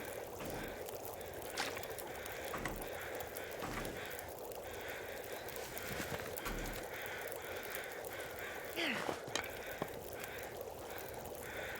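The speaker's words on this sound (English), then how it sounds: "Those crows are noisy." Crows in The Long Dark game caw in scattered bursts over steady wind or ambient noise, fairly faint and distant, with no voices present.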